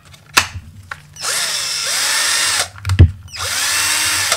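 A cordless power drill whirs in two sustained bursts, preceded by short trigger blips and a clunk between runs; close and loud, no talking.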